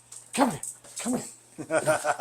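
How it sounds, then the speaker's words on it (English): A sweet-natured rescue dog, kept as an emotional support animal, gives three close whimpering yelps and soft barks, each a short rising cry separated by brief pauses. "One of the sweetest dogs you'll ever get to meet."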